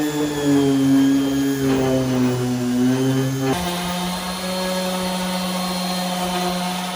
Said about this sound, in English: We're using an 80 grit on this deal